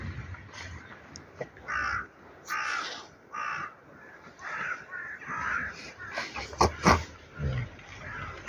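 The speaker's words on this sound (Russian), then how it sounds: "Вороны поют." Crows caw in a snowy March setting, scattered fairly distant calls in irregular bursts over a quiet outdoor background.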